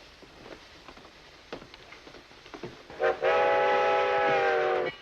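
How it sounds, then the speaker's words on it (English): A 1948-era train pulling into a station: faint clanks and rattles, then a loud sustained steam whistle for about two seconds before it cuts off. "Always is when the train comes in."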